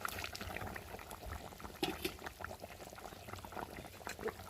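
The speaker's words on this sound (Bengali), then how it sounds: "ঝোলটা ফুটে গেছে। দেখো খুব সুন্দর টকটক করে ফুটছে" A fish curry bubbles and pops at a lively simmer over a wood fire, close by, with small irregular bursts and a soft crackle underneath.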